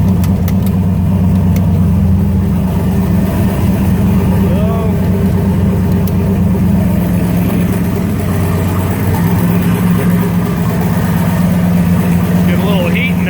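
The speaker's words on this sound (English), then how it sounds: "Get the transmission warmed up." A vehicle engine idles steadily to warm up the transmission, a loud, continuous low rumble that holds throughout at close range with little change in pitch.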